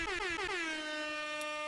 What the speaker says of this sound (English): I give an air horn for that one